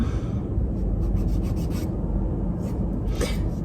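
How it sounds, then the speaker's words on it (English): Fingernails being filed with a nail file, a continuous close scratchy rasping with short repeated strokes, fairly quiet and with no talk. "Sorry, I'm just filing these nails."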